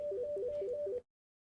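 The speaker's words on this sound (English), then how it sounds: "Oh, we've got a phone call coming in." A phone rings with an incoming call, giving a fast repeating electronic two-tone warble for about a second and then stopping abruptly, fairly faint, with no voices.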